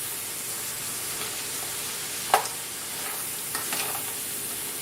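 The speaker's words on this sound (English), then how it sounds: "Stir 4 or 5 minutes until hot" Corn and lima bean succotash heating in a hot pan, a soft, even sizzle with a couple of brief scraping clatters from a utensil partway through.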